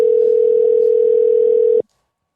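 A telephone tone sounds while calling someone, a single loud, steady pitch that holds for almost two seconds and then cuts off abruptly into silence.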